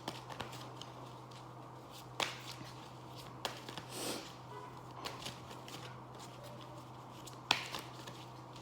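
Tarot cards being shuffled in a quiet room: soft, faint riffles and sliding flicks with a few sharper snaps, spaced irregularly over a steady low hum.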